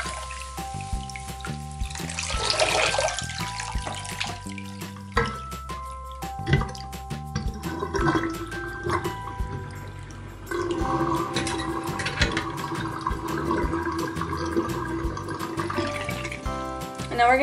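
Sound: tap water rinsing a synthetic wig

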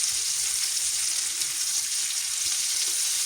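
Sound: onions frying in a pan

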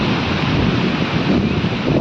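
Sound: sea waves at the beach in Dahanu

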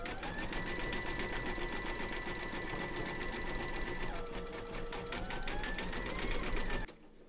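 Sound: embroidery machine zigzag stitching

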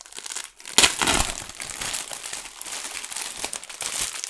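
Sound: magazine being taken out of its plastic wrapping foil

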